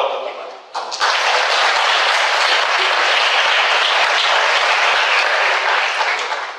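Audience at a training meeting for a first-reception help desk in Lecce breaks into loud, sustained applause, close and dense, continuing steadily for several seconds after a brief quieter start.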